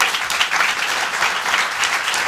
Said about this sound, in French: Acclamez les artistes, René Marc, Tex et tous les humoristes qui nous permettent de nous exprimer